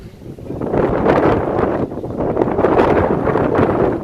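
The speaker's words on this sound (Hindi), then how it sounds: "बड़ी तेज़ हवा चलनी पी जी" A strong, cold wind blows hard outdoors and buffets the microphone in loud, continuous gusts that swell and ease, with no voices.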